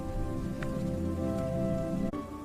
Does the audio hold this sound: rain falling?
yes